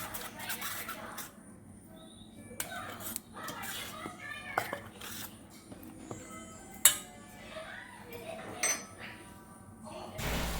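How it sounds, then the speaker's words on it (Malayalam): Unniyappam batter stirred in a vessel with a utensil, giving scattered light clinks and scrapes against the sides at a moderate, quiet level, with faint background sounds between strokes. "ഇനി ഈ മാവ് നമുക്കൊന്ന് കലക്കിയെടുക്കാം."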